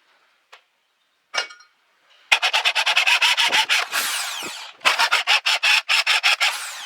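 A hand drill bores a hole in metal to fit a reed valve for a homemade jet engine, giving a series of rapid rasping, grinding bursts after a few sparse knocks.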